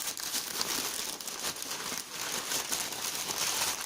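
Plastic packaging crinkles and crackles steadily while a green laser pointer is unpacked, a close, continuous rustle with small tearing textures throughout.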